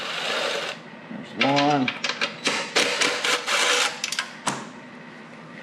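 A driver tightens bolts on a restored Alexander Reynolds ARCO mini-bike in a workshop, making a string of short, loud ratcheting bursts in an uneven rhythm, with someone speaking briefly between them.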